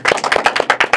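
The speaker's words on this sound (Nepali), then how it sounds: "परमेश्वरलाई हामी ताली बजाएर धन्यवाद दिनेछौँ है त।" Congregation clapping their hands in thanks to God at a church service, a fast, steady run of close, sharp claps that fills the whole second.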